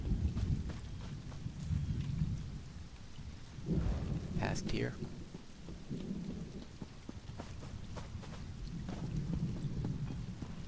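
A rainy thunderstorm in a video game set in Tamriel, with steady rain and deep rolling thunder rumbling through, and a brief spoken phrase partway in.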